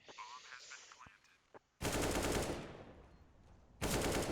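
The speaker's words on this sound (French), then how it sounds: "Et Jackie Jackie qui met le headshot" A Counter-Strike headshot on Dust2 in a competitive match: two sharp, loud gunshot blasts about two seconds apart, each ringing off, after a quieter stretch of game sounds.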